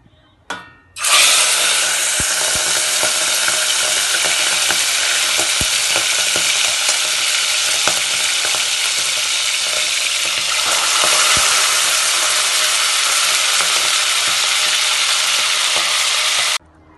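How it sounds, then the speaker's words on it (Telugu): Raw prawns frying in hot oil, a loud, steady sizzle that starts abruptly and holds with little change for about fifteen seconds, with no talking. "ముందుగా తగినంత ఆయిల్ తీసుకొని ఫస్ట్ రొయ్యలు వేసుకోవాలండి"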